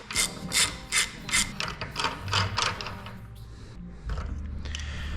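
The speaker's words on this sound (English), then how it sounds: "So we're actually gonna go at it with a ratchet first." A ratchet loosens the hub nut on a Sterling 10.5 rear axle from a 1999-2004 Ford F350 Super Duty, with a series of loud, close, rhythmic ratcheting clicks in steady strokes that then give way to quieter mechanical rubbing.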